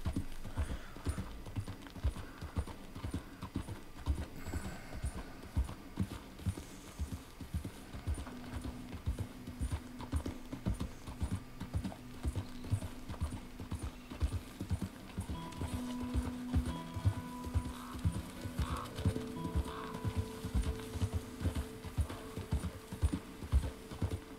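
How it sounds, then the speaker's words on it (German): Horse hooves clip-clopping on the ground while riding in the video game Red Dead Redemption 2, a steady, even trotting rhythm that runs the whole time at moderate volume, with faint tonal background music and no voices. "Jetzt darfst du gern wieder was schneller reiten, Nick."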